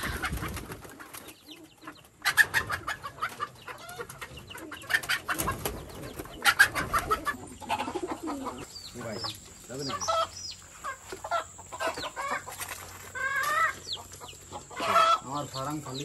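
Chickens cluck and pigeons coo on a small poultry farm, the calls coming in scattered bursts over steady background noise, some near and some farther off, with faint voices now and then.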